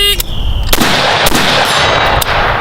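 Gunshots ring out during a timed shooting drill on a range, several sharp loud cracks spaced about half a second to a second apart over steady outdoor background noise, with a ringing metallic tone at the start.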